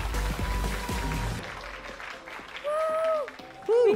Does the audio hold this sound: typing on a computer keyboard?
no